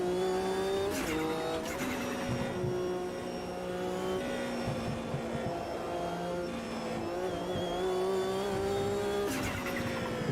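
A Porsche race car driven in the sim racing game Automobilista 2, its engine droning steadily with pitch rising and dropping through gear changes, loud and continuous throughout.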